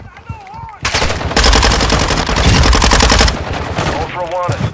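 Rapid, loud machine gun bursts in the shooter game Warzone 2.0, sustained for several seconds in close, dense volleys, with brief radio-style voice chatter at the start and end.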